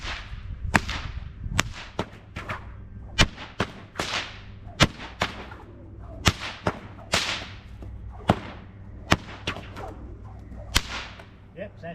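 A stockwhip is cracked left-handed in outback Queensland, giving about fourteen sharp, loud cracks at an uneven, fairly quick rhythm, each with a brief whooshing tail, and no talk over them.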